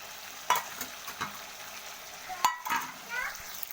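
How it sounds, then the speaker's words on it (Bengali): Fried potatoes tipped into a pan of masala for a peas curry and stirred, giving a few short scraping clinks and a soft sizzle, fairly quiet and close. "তো দেখুন এরপর ভেজে রাখা আলুগুলো আমি দিয়ে দিলাম"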